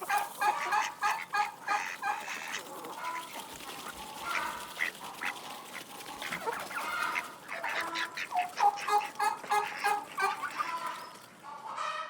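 Domestic chickens cluck steadily in a mountain village in Azerbaijan, a dense run of overlapping clucks and squawks from several birds at close range with no talk.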